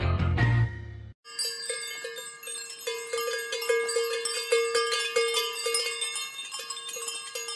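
A cowbell on a cow's neck clanks and rings in a steady, uneven rhythm of repeated metallic strikes, loud and close, after a brief burst of other sound at the start.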